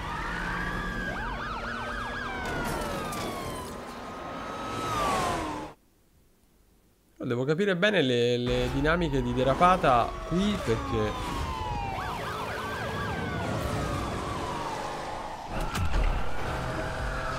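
Police sirens wail continuously in the racing video game Need for Speed Unbound, rising and falling over engine and tire noise. After a brief silence they return while someone speaks over the game sound.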